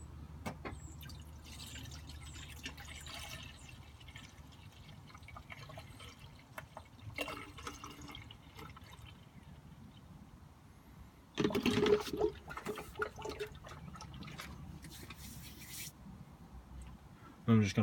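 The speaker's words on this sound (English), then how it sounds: "I'm just going to top the rest of it up with water." Water and ready-mix coolant poured into the cooling system of a Ford Fiesta XR2i: a steady low gurgling pour and trickle, close, with a louder splashing rush near the end.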